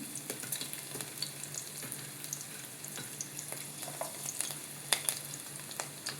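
Chopped garlic frying in a couple of spoons of oil, giving a soft, steady, crackling sizzle with faint clicks, heard alone and fairly quiet.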